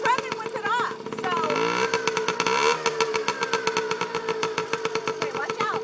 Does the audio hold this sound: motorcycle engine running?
yes